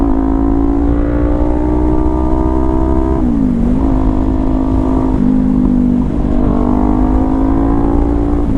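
A 2019 Kawasaki Ninja 400 motorcycle pulls hard, its engine note climbing steadily through several gear shifts with brief dips between them, loud and continuous with heavy wind rush, in San Diego, California.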